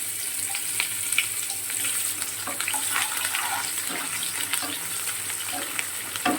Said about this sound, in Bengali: পেঁয়াজটা একটু হালকা ভাজা ভাজা হবে